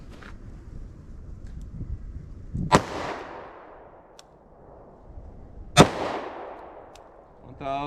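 Two sharp .38 Special +P rounds from a snub-nose revolver fired at a steel target about five yards away, each crack followed by a ringing decay, spaced about three seconds apart over quiet outdoor ambience.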